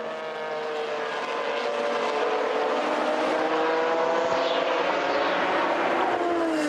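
Maserati and Ferrari GT race cars roar past at Monza during the opening FIA GT 500-kilometre race of 2005. Loud, continuous engine wail rises and shifts pitch as several cars pass close by.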